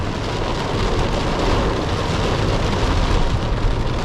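Steady rain drums on an Opel Insignia while it drives through a downpour, a dense continuous broadband wash with low road rumble, loud and even throughout with no talk.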